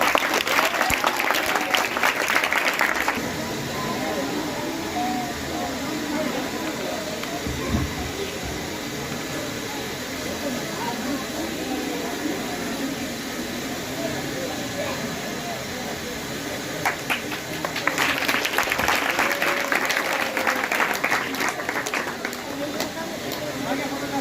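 Audience applause at a Teachers' Day event breaks out in bursts of dense clapping at the start and again near the end, with crowd chatter and speech filling the stretch between.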